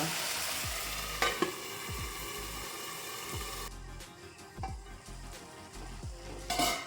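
Tomatoes softening in hot oil in a pan for tomato rasam, a steady hiss of frying that drops lower partway through, with a few faint clinks of a spoon, close and quiet.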